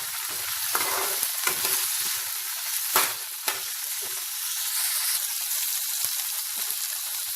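Vegetables fry on low heat for veg fried rice, a steady sizzling hiss with a few louder spatula scrapes near the middle, close by and without talk.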